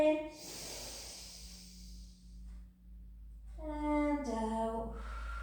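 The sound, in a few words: deep breath in and out during pilates exercise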